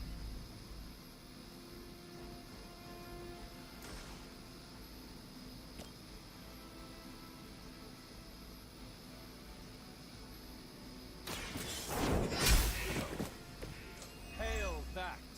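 A Hydra chopper flies in Midnight Suns with a steady, low droning engine hum that holds through most of the stretch, then swells into a louder rush near the end, with voices speaking over it.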